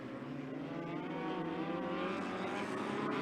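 Midget race cars at speed on the Skagit Speedway oval, a continuous high engine drone with rising and falling pitch as several cars pass, sustained and fairly distant, no talk.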